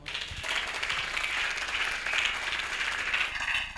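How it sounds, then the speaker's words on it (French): A crowd at a Father's Day celebration claps for the mothers, steady dense applause filling the room at moderate distance, then tapering off near the end. "Acclame pour les mamans."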